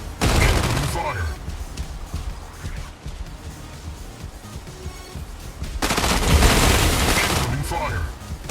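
Incoming gunfire in the video game Arc Torrent: loud sustained bursts of automatic fire and booms, a lull of quieter crackle, then another heavy burst of shooting.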